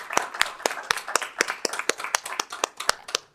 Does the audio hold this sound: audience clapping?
yes